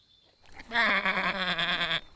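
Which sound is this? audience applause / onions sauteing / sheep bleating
sheep bleating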